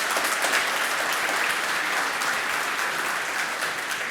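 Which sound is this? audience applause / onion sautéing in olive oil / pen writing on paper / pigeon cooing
audience applause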